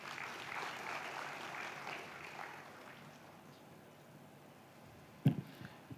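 Audience applause at a digital transformation summit in the Middle East & Africa, steady and moderately distant for several seconds, then fading out, with a brief louder knock near the end.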